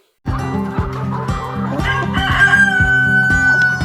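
Chickens cluck and a rooster crows on a poultry farm, loud and continuous, with a dense layer of fowl calls and a drawn-out crow rising near the middle.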